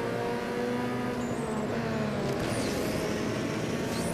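Engine roar of several racing cars in Need for Speed: Underground 2, steady and loud, with a faint tire squeal and the hum of opponent cars closing in from behind.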